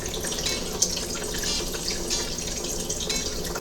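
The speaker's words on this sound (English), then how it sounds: "So we're gonna drain it out and sanitize it together." Vinegar solution drains from a GE Opal 1.0 nugget ice maker, a continuous close trickle and splash of running liquid with a few small drips, steady throughout and without speech.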